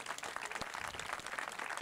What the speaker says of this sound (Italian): Sì, facciamolo un bel applauso